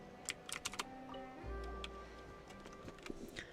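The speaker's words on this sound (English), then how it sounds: "I just bought a new keyboard" Someone types on a new, quieter Bluetooth computer keyboard, with a close run of light, quick clicks in uneven bursts and short pauses. Soft game music plays underneath.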